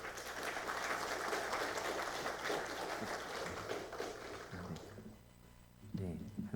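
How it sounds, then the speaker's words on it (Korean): Church congregation applauding to welcome a guest speaker at a Sunday worship service, a dense, steady wash of clapping from a crowd that fades near the end as a voice begins speaking. "큰 박수로 환영해 주시기 바랍니다"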